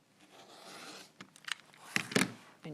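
A blade trims a quilt block of fabric with a few soft scraping, snipping cuts, rising in short bursts toward the end over a quiet background.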